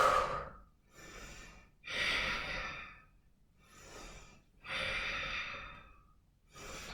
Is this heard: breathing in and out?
yes